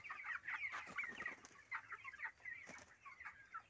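A flock of farm chickens clucks and chatters continuously nearby, quiet overlapping calls that come in short bursts, with no one talking over them.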